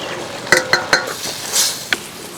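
A metal spoon scrapes and knocks against a pan several times in quick succession while beetroot stirs into masala and sizzles softly.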